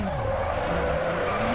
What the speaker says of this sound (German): das Driften läuft bis jetzt ganz gut